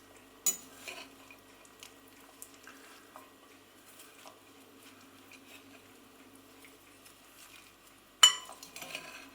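A pasta spoon stirs and turns bulgur wheat in a bowl, giving soft scraping and squishing with a sharp clink near the start and a louder clatter toward the end.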